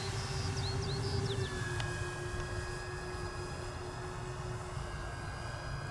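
A HobbyKing Avios 1900 mm PBY Catalina RC floatplane passes overhead, its electric motors giving a steady drone that shifts in pitch as it goes by, under constant outdoor background noise with no talking.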